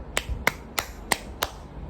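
A single person claps five times in a steady, evenly spaced rhythm, each clap sharp and close, with no talking, during a spoken tarot reading.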